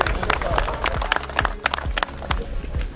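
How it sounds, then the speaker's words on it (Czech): An indoor crowd at an awards announcement applauds for the second-place winner with dense, lively clapping. A few voices and cheers mix into the applause. "Takže potlesk na druhé místo."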